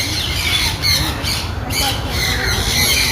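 An eagle gives loud, harsh squawking calls up close, a continuous rasping cry lasting a few seconds with no talk over it.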